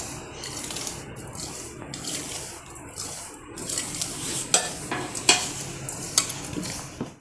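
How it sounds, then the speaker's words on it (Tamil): A spoon stirs a ragi laddu mixture with ground peanuts, almonds and pistachios in a pan, making repeated scraping and clinking strokes over a soft background hiss, growing busier and sharper toward the end. "பாதாம் பிஸ்தா போட்டுக்கலாம். நல்லா கலக்கலாம்."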